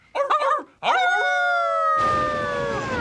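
A cartoon dog yips in quick bursts, then lets out a long, drawn-out howl that holds steady and carries on as a noisy crash or hiss cuts in over it.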